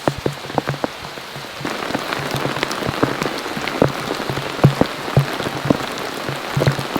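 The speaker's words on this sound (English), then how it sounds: "More rain." Steady rain falls on a surface outdoors, a dense continuous patter with scattered louder drops hitting close by and no voices.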